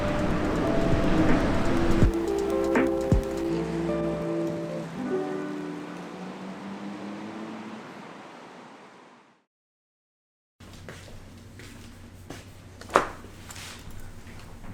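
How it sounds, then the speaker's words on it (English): Steady rain falls outdoors with a dense hiss, fading to near silence, then returning with a softer patter and a sharp knock or two. "I kind of really don't feel like walking around in the rain anymore"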